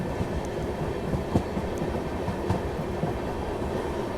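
A train with a rare WCM-3 electric locomotive on the Sanghamitra Express route rumbles past loud and close, with dense clattering wheel noise, occasional sharp clicks and clacks, and a steady rolling roar.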